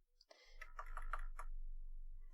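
Typing on a computer keyboard while setting up a Windows virtual machine: a short run of soft clicking keystrokes at close range over a low steady hum, with no talking.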